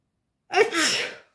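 A single sharp sneeze up close, a quick intake followed by a bright, breathy burst that trails off after about a second, with silence before it.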